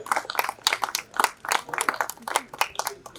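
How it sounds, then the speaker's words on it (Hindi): Audience applause welcoming a guest speaker at a theatre and culture discussion event in Allahabad, a moderately sized crowd clapping in uneven bursts throughout. "आप तालियों से इलाहाबाद शहर में अंकुर सर का स्वागत करें"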